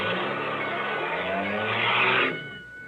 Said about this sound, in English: You stalled the car.